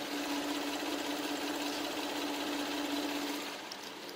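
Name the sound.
car engine idling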